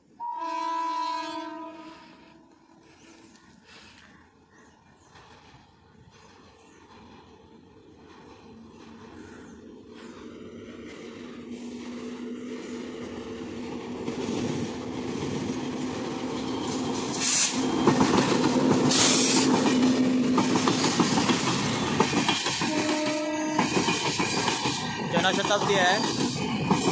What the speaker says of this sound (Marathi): ही बघा, कुठची तरी ट्रेन येते आहे.